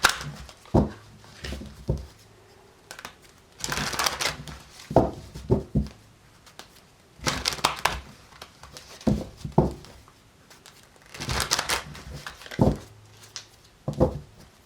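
Cards are shuffled in repeated bursts of riffling and tapping, close by, with quiet pauses between each shuffle.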